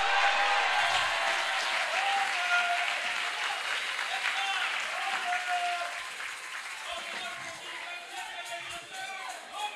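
Church congregation applauding at a Pentecostal service, a dense sustained wash of clapping that fades gradually, with voices mixed in beneath.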